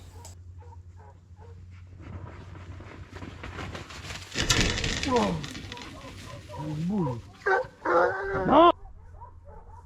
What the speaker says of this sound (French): Les chiens sont lancés, ils mènent et j'entends que ça vient vers moi.